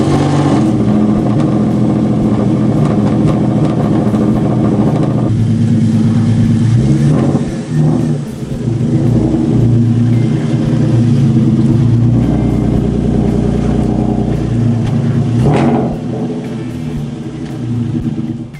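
A car pulls forward in a driveway, its engine rumbling close and steady with shifting revs and a couple of brief swells as it moves.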